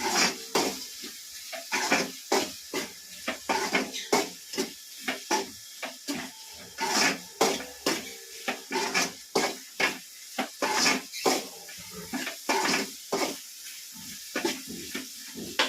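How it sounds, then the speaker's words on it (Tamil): Jackfruit seed curry with chili powder is stirred in a hot pan, giving steady hissing sizzle broken by a rhythmic run of scraping, clinking spoon strokes against the metal. "நல்லா கிளறி விட்டுக்கலாம்."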